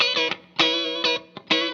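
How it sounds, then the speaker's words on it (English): An electric guitar runs through the vibrato of a Boss CE-3 pedal, playing several short, warbling chords with brief gaps between them. "This is what the vibrato sounds like by itself."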